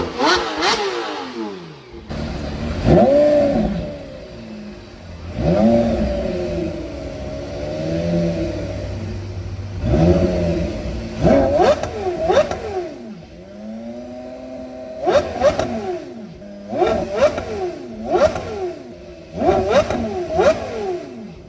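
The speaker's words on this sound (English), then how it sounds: "that rev off was interesting" Porsche sports cars rev hard in a rev-off at a classic Porsche meet, with repeated loud engine blips and long sweeping revs rising and falling, some revs in quick bursts, heard fairly close.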